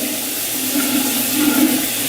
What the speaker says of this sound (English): Now I'm gonna hop in the shower.